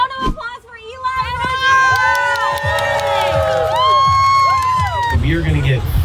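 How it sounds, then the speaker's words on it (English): A party crowd on a bus cheers and whoops for Eli, with loud overlapping shouts and high excited voices rising and falling continuously, and some claps and chatter mixed in. "Everybody, round of applause for Eli."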